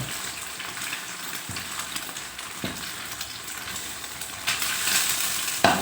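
Eggs sizzle and are stirred in a hot pan for a Thai pumpkin stir-fry, with a steady close crackle of frying and occasional scraping clanks of the spatula, growing louder near the end, no voices.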